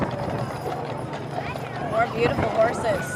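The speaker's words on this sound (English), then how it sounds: "We're looking now at old-time Clydesdales." Old-time Clydesdale horses clip-clop along a street in a children's evening parade, hooves steady and moderately close beneath a commentator's continuous talk.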